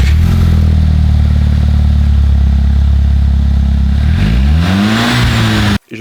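A Volkswagen Polo GTI engine runs steadily and loudly close by, then its pitch swoops and the revs rise before it cuts off abruptly near the end.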